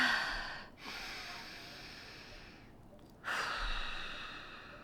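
A deep breath taken during a guided relaxation exercise, airy inhales and exhales close to the microphone, with a brief pause before a fuller breath resumes.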